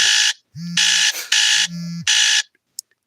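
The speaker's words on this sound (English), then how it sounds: "Do you know what that buzzer's for?" A loud electronic buzzer sounds in four long, harsh blasts separated by short gaps, close and alone with no talk.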